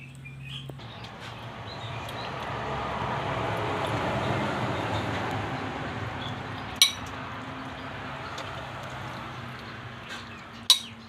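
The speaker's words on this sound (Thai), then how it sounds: "แล้วก็ให้เดือดปุดๆแบบนี้นะคะ" Clear Thai noodle soup (kuay jap) bubbling in a pan over a charcoal stove, a steady broadband simmering hiss swelling gently in the middle, with two sharp metallic clinks near the end and no talk.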